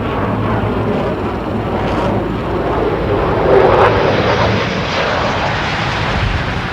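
Jet engine of the Convair XF-2Y Sea Dart, an experimental 1952 delta-wing seaplane fighter with hydroskis, gives a sustained roaring rush that swells briefly midway, loud and continuous.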